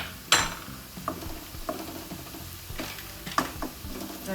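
Chilli and coriander powder stirred into yam masala frying in a pan: a soft continuous sizzle with scraping spoon strokes against the pan, sharp clinks recurring roughly every second, close and moderately quiet.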